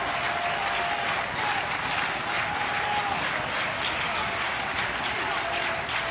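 A baseball crowd at a 2019 NCAA tournament game between Mississippi State and Miami cheers and applauds steadily throughout, a dense, continuous roar with scattered whistles rising over it.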